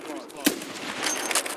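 A single sharp gunshot cracks out at close range in the tactical shooter Escape from Tarkov, a loud brief burst followed by a ringing, echoing tail.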